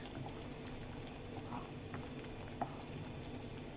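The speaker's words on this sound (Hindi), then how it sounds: "अब इस मसाले को अच्छे से भुनना है" Spiced masala of cumin, coriander, turmeric and salt roasts in oil in a pan for paneer lababdar, giving a faint, steady low sizzle with a couple of soft scrape or tap sounds, no voices.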